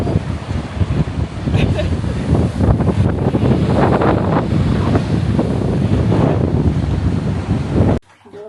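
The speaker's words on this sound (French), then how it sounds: "Par contre il y a beaucoup de vent" Strong wind gusting across a beach in Tunisia, buffeting the microphone with loud, rumbling roars that continue almost without a break and then cut off abruptly at the end.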